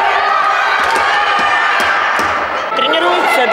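Spectators at a school floorball match in Novosibirsk cheer and shout from the stands in a steady, loud crowd roar, with occasional thuds from play on the court.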